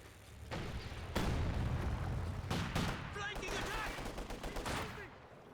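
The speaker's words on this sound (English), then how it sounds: "good mortar shot there" A mortar shot lands in a Company of Heroes 2 battle amid several booming blasts and gunfire cracks, mid-loud within a busy wartime soundscape, with a voice commentating.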